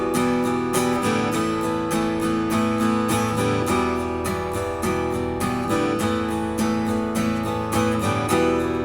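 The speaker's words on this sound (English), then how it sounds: "Without the palm muting, it sounds like this." Electric guitar rhythm strumming left open without palm muting, steady repeated chords ringing bright and full with sustained overlap between strokes, loud and alone for several bars.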